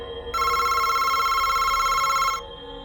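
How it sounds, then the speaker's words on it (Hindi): A telephone rings with a steady electronic tone for about two seconds, clear and close, in a spooky animated horror story scene with no talking. "तभी किसी का फोन आया"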